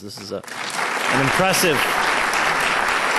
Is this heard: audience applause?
yes